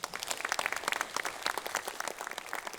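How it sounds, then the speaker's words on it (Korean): Lawmakers at a Democratic Party caucus meeting in South Korea applaud, a continuous, fairly soft patter of many hands clapping, heard at a slight distance. "박수가 나옵니다."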